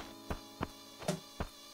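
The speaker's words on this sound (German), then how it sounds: "Ich höre schon immer noch eine Fliege" Fly in the video game Animal Crossing: Wild World, heard as four short faint tonal pulses spaced evenly over a steady quiet hum.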